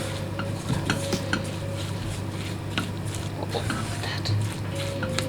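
A utensil scrapes and stirs grated apple, sugar and onion in a frying pan, repeated clinking and scraping strokes over a low sizzle, with a voice speaking briefly.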